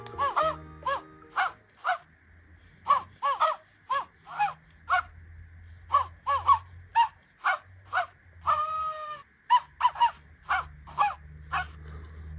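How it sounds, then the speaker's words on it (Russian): A talking Lego Duplo toy dog plays its electronic sounds: a rapid series of short, loud synthesized barks and yips in bursts, with a brief melodic jingle in the middle. "по логике у собачонка должен быть другой набор звуков"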